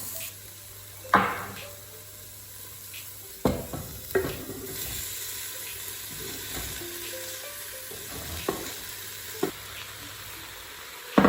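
Leeks sizzle steadily in a pan while a utensil stirs and scrapes, with several sharp clinks and knocks against the cookware.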